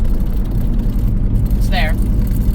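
A 1984 Dodge Mini Ram engine drones loudly from inside the cab at a steady road speed, with a brief rising whine near a gear change, while a person talks over it.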